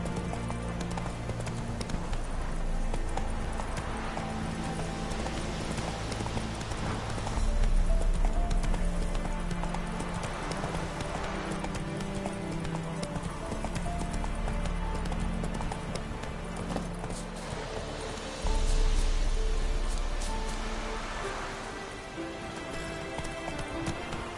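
Horse galloping in The Witcher 3 video game: steady, continuous hoofbeats under a constant bed of game ambience and music, loud and close throughout with no break.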